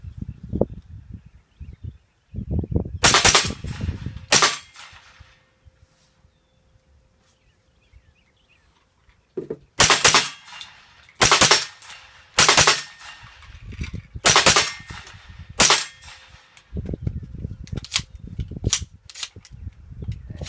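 Keltec CMR 30 rifle chambered in .22 WMR fired outdoors in a string of sharp, loud individual shots, a few at first, then a pause, then a faster run of reports spaced about a second apart.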